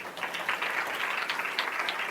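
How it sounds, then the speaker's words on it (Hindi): Audience at a church sermon applauding, a dense steady patter of many hands clapping together for a couple of seconds, fairly loud and close, with no talk over it. "क्या ताली बजा सकते हैं इसके लिए?"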